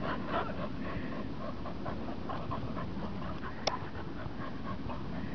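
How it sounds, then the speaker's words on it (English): A dog pants steadily and rhythmically, close by, over a continuous outdoor background at a park, with one brief sharp click partway through. "They're not very good guard dogs, actually."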